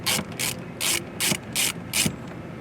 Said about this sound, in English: This is a T15 Torx headed screw. So you're going to go ahead and spin those out.